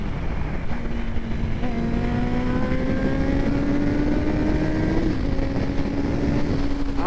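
A Honda CBR motorcycle exhaust rises and holds under throttle on a windy night ride, a steady loud engine drone climbing in pitch, briefly dipping, then sustained, with wind noise throughout.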